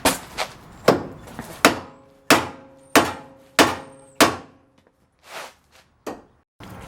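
Metal hammer blows land on a steering or suspension joint of a 1997-2002 Honda Accord to knock its taper loose, about a dozen sharp, ringing strikes in an uneven rhythm, loud and close.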